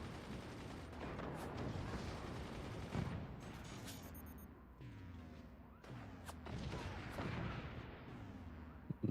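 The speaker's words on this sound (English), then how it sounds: "2 more cannon shells fired." Cannons and howitzers fire again and again in the Forts strategy game, heavy booms and crashing impacts overlapping in a dense barrage without pause.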